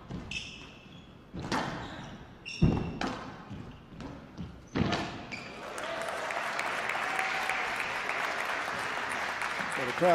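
Spectators at a World Series Finals squash match applaud for Gaultier, a swelling burst of clapping that follows several sharp ball thuds and builds to a sustained wash of applause in an indoor arena.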